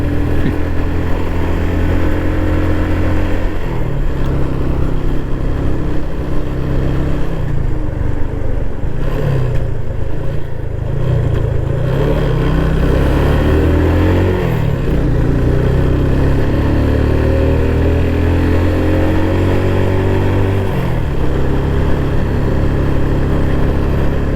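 A car climbs a steep hill road toward Yercaud with a loud, continuous engine drone that rises and falls as the motor strains and revs through the slope.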